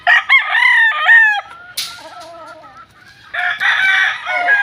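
Boston Millionaire gamefowl roosters on a game farm crow loudly and close by, several overlapping crows in quick succession with clucking and a short flapping burst between calls.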